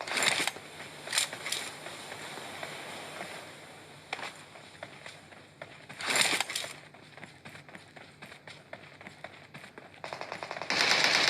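Distant gunfire crackles in rapid bursts over a constant noisy background, with a few louder volleys standing out, in PUBG Mobile.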